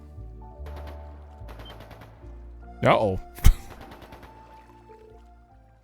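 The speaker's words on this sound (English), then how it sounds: "Is that gunfire?" A couple of sharp, loud bangs ring out in the middle, with a brief crackling burst before them, over a low ambient game backdrop and a short spoken remark, in Trails into Reverie.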